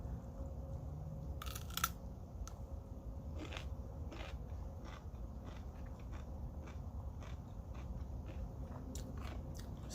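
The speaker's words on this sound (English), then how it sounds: "can you hear the crunch?" Fresh garden vegetables chewed up close: quiet repeated crisp crunches and wet bites at an irregular chewing rhythm over a low steady background hum.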